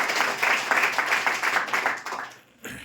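Steady applause from a crowd at a madrasa school event in Pokran, dense clapping that holds for a couple of seconds, fades, then briefly swells again.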